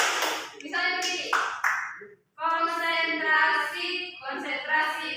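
Hands clapping in a group concentration game, sharp claps mixed in among loud overlapping voices of participants talking and calling out.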